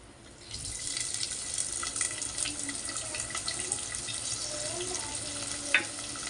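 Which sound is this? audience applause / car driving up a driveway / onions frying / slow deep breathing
onions frying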